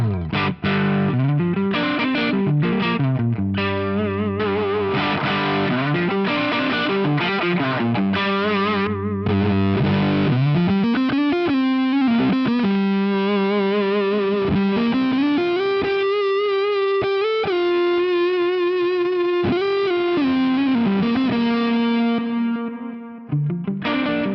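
Overdriven, fuzzy electric guitar through a VP4 effects unit into a chimey amp, playing chords and riffs alone, with echoing delay repeats and a reverb tail that rings out at the end.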